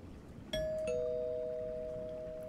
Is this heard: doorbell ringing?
yes